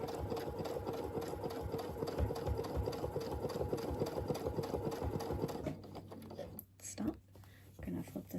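A sewing machine runs steadily while stitching a churn dash quilt block, a close, even mechanical hum that stops near the end with a few soft handling clicks.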